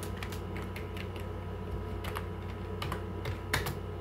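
Someone types on a laptop keyboard, a quiet run of irregular clicking keystrokes with a soft steady hum underneath and no speech.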